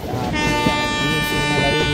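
A train rumbles along the track in the Indian Train Simulator game, a loud, steady roar with a sustained horn-like tone, while a voice talks over it.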